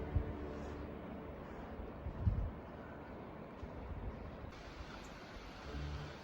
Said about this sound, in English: it's been really windy this afternoon